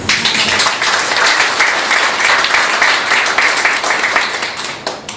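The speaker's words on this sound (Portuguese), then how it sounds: "E uma salva de palmas para nós." A crowd applauds steadily at a joint Rotary Club meeting in Maringá, dense clapping holding at an even loudness for several seconds before easing slightly at the end.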